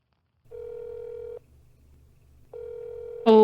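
A phone call rings out in a visual novel game, with two long ringback tones separated by a pause over a soft low hum, then a sudden louder tone at the end.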